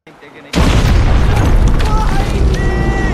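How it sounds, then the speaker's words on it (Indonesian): A sudden, massive explosion in a war film, hitting soldiers crossing a bridge, bursts in after a brief quiet moment, then roars on as a loud, sustained rumble with debris and high whistling tones. "sebuah ledakan dahsyat tiba-tiba terjadi"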